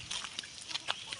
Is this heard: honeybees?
no